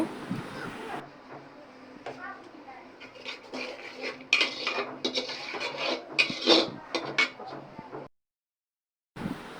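Turmeric and chili spice paste is stirred in a pan, with metal utensil scraping and clattering against cookware in busy bursts, then a brief silence; there is faint talk at the start.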